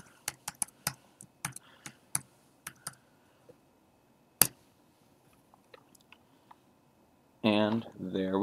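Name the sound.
typing a password on a computer keyboard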